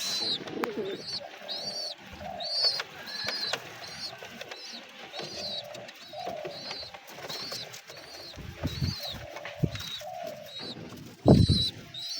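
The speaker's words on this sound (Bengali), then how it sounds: "দেখেন গাইস কীভাবে বাচ্চাদেরকে খাবার খাওয়াইতেছে আমার কবুতর" Domestic pigeons feeding their chicks, with repeated soft cooing calls and faint chirps running steadily through the scene, a few louder rustling knocks and wing flutters near the end.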